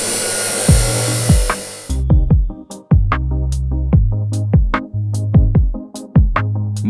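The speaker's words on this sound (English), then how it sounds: "Mini Cutter 1 from Wooden Bearings. Smooth and steady, pure DIY energy." A small homemade wooden cutter with wooden bearings runs in a steady tonal whir, first as a bright continuous grind, then in repeated short cutting strokes with rising pitch sweeps, close and fairly loud.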